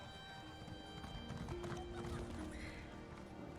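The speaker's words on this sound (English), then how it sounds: "I think this is the same horse they had last year." A horse in a video game clip-clops and whinnies, its hooves and neighing faint beneath quiet talk.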